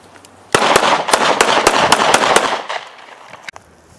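An M&P Shield 9mm pistol fired at targets in a quick string of about eight loud, sharp shots packed into two seconds, with one more faint pop after a short pause.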